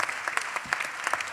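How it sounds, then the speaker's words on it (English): Audience applause at a town hall event at the Apollo, a short burst of dense clapping heard at a moderate distance, steady and fairly even. "Please give yourselves a big round of applause"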